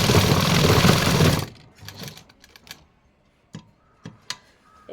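A sewing machine stitches fabric for a pants side pocket, its fast, dense whirring run loud and close for about a second and a half, then it stops, leaving scattered light clicks and handling taps.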